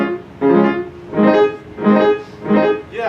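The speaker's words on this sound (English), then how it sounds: "when you have a chord that's broken and you have something that sounds like this" A classical guitar plays three slow broken chords, each swelling in as the notes are rolled, with short gaps between them.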